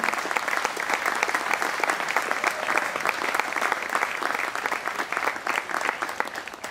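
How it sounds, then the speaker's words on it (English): Audience applause at an Irish Night event in Boston's North End, a steady dense wash of clapping from a sizable crowd, sustained and fairly even throughout with no talk over it. "I'd like you to give them a nice round of applause."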